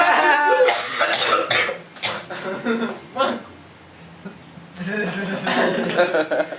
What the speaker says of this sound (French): tu as toussé